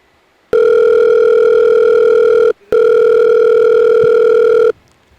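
Telephone ringback tone sounding as two long, steady buzzing rings with a short gap between them while a call is placed to the boss; loud and close, with no voices.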